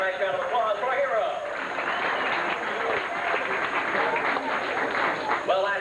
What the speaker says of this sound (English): Have a nice round of applause for our hero.